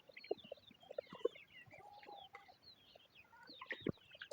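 Chickens clucking in a small family farm coop, scattered close clucks and squawks in bursts against a quiet background.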